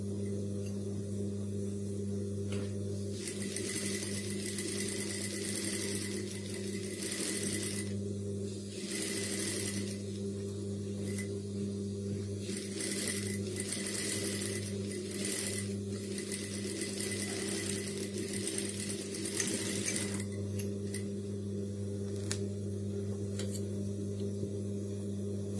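A sewing machine stitches a high-neck blouse in repeated bursts of rapid mechanical whirring, with pauses between runs over a steady low electrical hum, and no talking.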